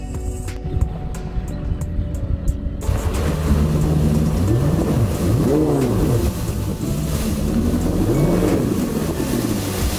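A pike-fishing boat's motor runs on an Irish lake. After a brief quieter start, the engine drones loud and close, its pitch repeatedly rising and falling as the throttle shifts.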